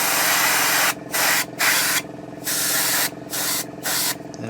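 Airbrush hissing out light mist coats of paint onto a 1/35 scale Takom Chieftain Mk10 model tank, a steady close spray broken into several short bursts with brief pauses between them, no talking.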